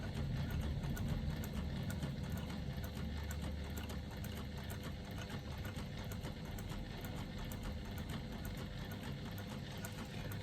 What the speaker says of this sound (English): I'm just going to stitch just below that first line of stitching